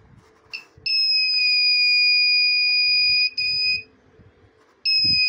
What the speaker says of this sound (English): then the buzzer and the LED will turn on